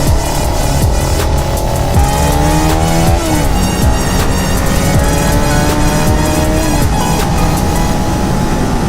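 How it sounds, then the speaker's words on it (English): A 2018 Suzuki SV650X motorcycle on a race track, its engine loud and continuous with rising and falling pitch as the rider shifts gears through acceleration. "I am currently riding an SV650X. It's Suzuki's new 2018 edition of the original SV"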